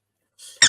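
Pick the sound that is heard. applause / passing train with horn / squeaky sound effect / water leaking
squeaky sound effect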